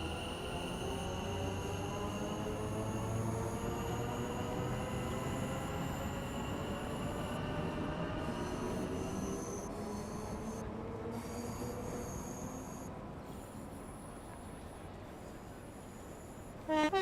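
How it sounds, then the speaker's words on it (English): A sound-modded Elizabeth line train in Train Sim World 5 runs along steadily, its wheels squealing and a rising, sweeping electric motor whine filling the clip, loud and continuous. "there's the Elizabeth train"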